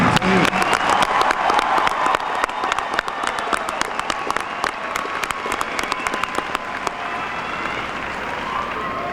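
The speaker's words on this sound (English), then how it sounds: "Can we have one more loud round of applause for the class of 2017?" A large graduation crowd gives the Wayne Memorial High School class of 2017 a sustained round of applause, a thick steady wash of many hands clapping at once, with sharp individual claps standing out throughout.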